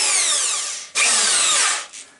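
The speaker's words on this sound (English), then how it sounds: "This drill is probably a little too powerful to be using for this." An overpowered power drill with a spade bit bores into wood, whining loudly in two steady bursts, with a brief stop as the bit catches and a short final spin-down.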